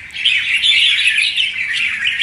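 Caged songbird, a red-whiskered bulbul, singing close and loud, a continuous run of bright warbling and chirping phrases with no talk.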